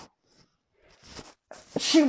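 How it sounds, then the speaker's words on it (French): A single close, sharp sneeze right into a microphone near the end, preceded by a faint intake of breath and small mouth sounds in an otherwise quiet room. "j'éternue du côté du micro"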